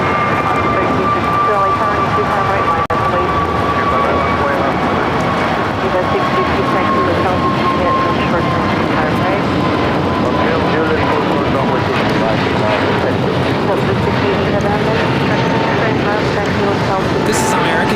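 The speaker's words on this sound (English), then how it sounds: "This is American Airlines 801 taking off to Las Vegas on the 321 Neo." American Airlines Airbus A321neo jet bound for Las Vegas takes off at LAX, a loud, steady engine roar with a rising whine that holds for the full stretch, with voices talking over it.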